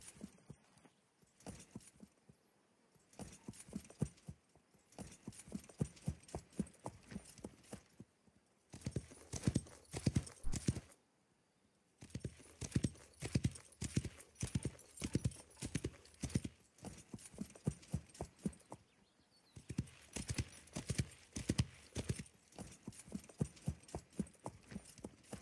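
Horse hooves clip-clop in the Wild West Online video game, rapid rhythmic bursts of galloping that pause briefly and resume several times, fairly close and loud.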